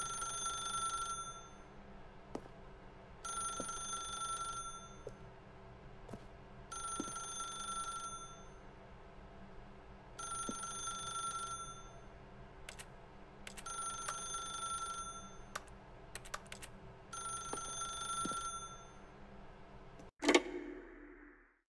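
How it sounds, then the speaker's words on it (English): A telephone rings in The Stanley Parable video game, six evenly spaced bursts of trilling bell, each about a second long, with soft ticking between them and a sharp knock near the end. "Then pick up the phone."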